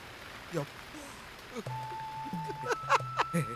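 Rain sound effect in a comedy sketch: a steady, moderate hiss of falling rain fills the background beneath voices and sustained electronic tones.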